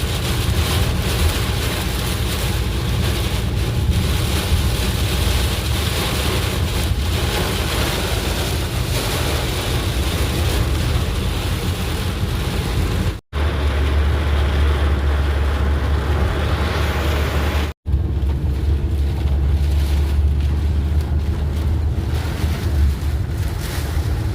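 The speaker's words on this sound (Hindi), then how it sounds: "इतना भयंकर तूफान।" Strong storm wind roars continuously and loudly straight into the microphone, a heavy low rumble of buffeting gusts with no speech, broken by two brief cuts.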